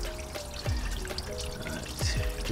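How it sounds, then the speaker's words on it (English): A garden hose runs water in a steady pour with splashing and gurgling bursts, close and moderately loud, no voices. "Water hose."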